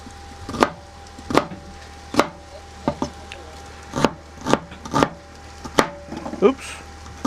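A cleaver chops food into chunks on a board, about ten sharp, distinct blows landing in a steady rhythm, close and fairly loud, with no voice over them.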